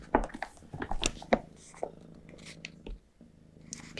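A cat purrs close by in a quiet indoor setting, a soft continuous rumble with a few brief rustles and light handling sounds around it.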